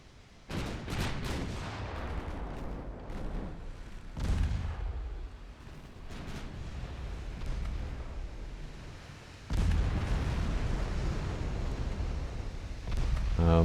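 Secondary guns of a warship firing during a naval battle game: repeated heavy booming reports and rumbling blasts, several loud shots spread across the span with continuous battle noise between them.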